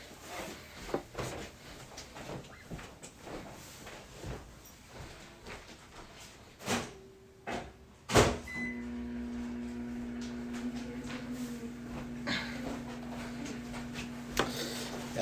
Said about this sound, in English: We're going to throw that one in the microwave here.